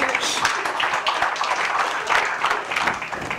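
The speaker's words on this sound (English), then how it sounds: "Would you give him a round of applause?" Audience at a business speaking event applauding steadily, a dense wash of clapping from a crowd that holds at even loudness throughout with no talk over it.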